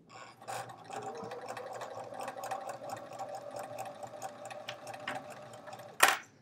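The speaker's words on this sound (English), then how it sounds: "I'm sewing one strip at a time" A sewing machine runs steadily, stitching quilt block strips one at a time with a continuous whirring hum and a sharp click near the end.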